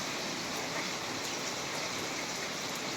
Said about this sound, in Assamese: মাছ ফ্ৰাই কৰিলোঁ, মই মাছ ফ্ৰাই কৰি আছোঁ।